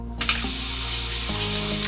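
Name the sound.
handheld toilet bidet sprayer nozzle self-cleaning water spray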